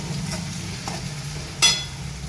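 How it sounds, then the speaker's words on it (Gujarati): Chillies and tomatoes fry in a pan with a soft continuous sizzle, punctuated by a few scraping stirs and one sharper clank of a spoon against the pan. "મરચાં સરસ આપણા સતળાઈ ગયા છે, ટમેટા પણ એડ કરી દીધા છે"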